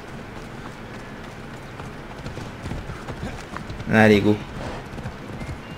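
In Assassin's Creed Odyssey, a horse's hooves clip-clop in a steady rhythm under a voice, and a sharp neigh rises briefly in the middle.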